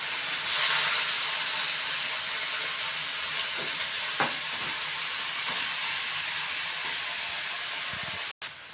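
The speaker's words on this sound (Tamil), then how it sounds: "இது மாதிரி தான் அழகாக நல்லா வதக்கிக்கணும்." Urad dal, mint, ginger, green chili and tamarind sautéing in a pan, a steady close sizzle with faint stirring scrapes and a brief quieter drop near the end.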